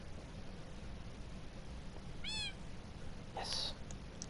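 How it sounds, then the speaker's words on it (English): A Minecraft cat meows twice in quick succession, short and fairly faint, over a soft, steady game background hum with no talking. "okay, cat. Come inside."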